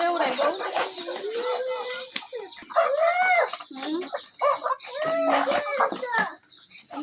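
Chickens cluck and squawk in a busy chicken house, with repeated hen calls, some brooding on eggs, close and fairly loud throughout.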